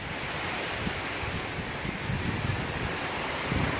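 Strong storm wind blows steadily and loudly at a worksite where tiling is under way, a broadband rushing roar with gusty swells toward the end and no talking.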